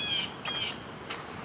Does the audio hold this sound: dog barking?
no